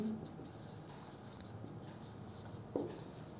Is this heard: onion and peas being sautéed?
no